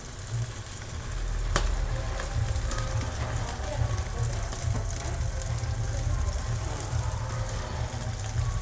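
Restaurant-style chicken tandoori pieces, brushed with oil or butter, sizzle steadily on a grill over low heat, a continuous close crackling hiss with a low hum beneath it, and one sharp click early on.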